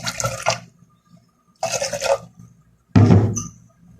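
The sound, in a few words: water being poured into a pan for coconut fried rice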